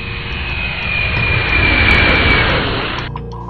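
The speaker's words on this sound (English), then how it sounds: "The airplane took off and went right up into the air." An airplane roars through takeoff, a loud steady jet rumble with a high whine that swells and then cuts off abruptly near the end, no voices.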